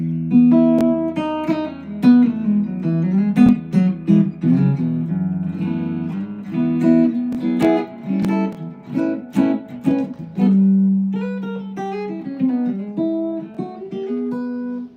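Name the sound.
hollowbody guitar piezo pickup alone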